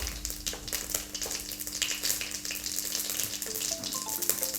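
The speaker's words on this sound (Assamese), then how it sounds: "জিৰা গুটিকেইটা দি দিছোঁ ফুটিবৰ কাৰণে।" Cumin seeds sizzle in hot mustard oil in a wok, a steady close frying hiss with a few faint clinks and no talk.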